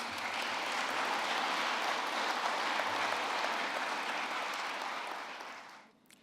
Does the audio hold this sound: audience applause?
yes